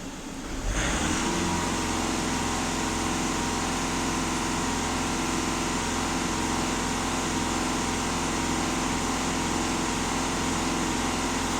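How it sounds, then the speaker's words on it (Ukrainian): A VW Passat B7 engine is floored to full throttle, jumping almost at once into a loud, sustained high-revving drone that holds steady with no talking over it. "Даю газ в пол"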